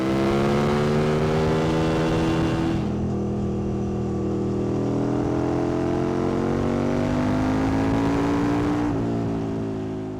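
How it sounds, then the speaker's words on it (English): The 60-degree V-twin of a 2003 Aprilia Tuono 1000 motorcycle revs loudly up close, its pitch climbing and falling in several swells with sharp shifts in tone about a quarter of the way in and again near the end. "a sublime 60-degree V-twin engine, the Aprilia Tuono 1000 from 2003"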